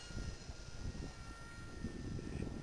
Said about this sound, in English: a wild attempt to try to fly his airplane